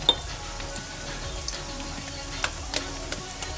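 Eggs hit hot oil in a pan over softened onions for egg fried rice, a steady low sizzle with faint clinks of a utensil against the pan, no voices.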